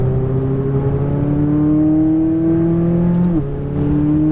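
A McLaren 570S engine drones loudly and steadily, its pitch climbing as it accelerates out of a corner on a race track, then dipping sharply on a gearshift before pulling again.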